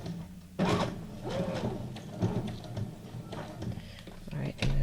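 A sewing machine stitching scraps of paper and fabric for a junk journal, giving a steady mechanical whirring and ticking with short bursts and pauses, recorded close up while someone speaks over it.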